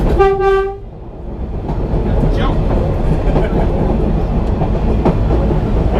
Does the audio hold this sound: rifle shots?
no